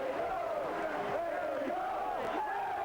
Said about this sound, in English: there'll be a huge cheer now as Ray Graydon steps forward